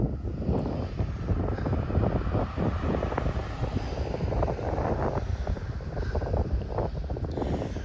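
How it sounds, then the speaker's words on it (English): A breeze blows up high beside a river, buffeting the microphone in a steady gusty rumble with low roaring surges, loud and continuous, and no voices. "It's a little breezy up here"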